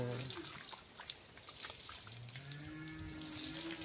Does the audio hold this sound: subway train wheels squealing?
no